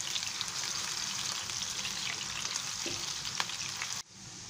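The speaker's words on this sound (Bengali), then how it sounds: "পেঁয়াজ কুচিটাকে আমি একটু বাদামি করে ভেজে নেব।" Finely chopped onion frying in oil until light brown makes a steady, dense sizzle with light crackles and occasional stirring taps. The sizzle drops away abruptly near the end, leaving a softer hiss.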